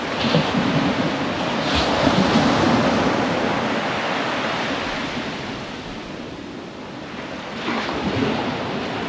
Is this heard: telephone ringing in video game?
no